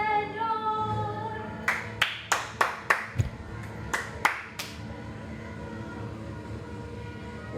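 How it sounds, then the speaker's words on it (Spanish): A church congregation at a morning devotional bursts into applause for the Lord, a run of distinct sharp claps in uneven rhythm over a sustained musical drone, fairly close and without speech. "Le damos un aplauso al Señor"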